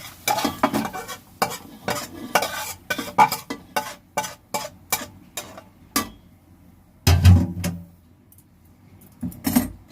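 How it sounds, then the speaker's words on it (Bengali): A spoon stirs boiled carrots and beans into cooked rice in a metal pot, producing a series of sharp scraping and clattering strokes in an irregular rhythm, close by with quiet gaps between them. "এবার আমি ভালো করে ভাতের সাথে সবজিটাকে নেড়ে নেব।"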